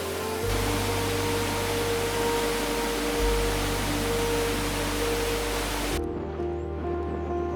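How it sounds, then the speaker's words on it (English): Paracornoy Falls in New Zealand native forest, a steady broadband rush of falling water, continuous and full, cutting off abruptly near the end. "A short walk through the native forest takes us to Paracornoy Falls, the most photographed of all waterfalls in New Zealand"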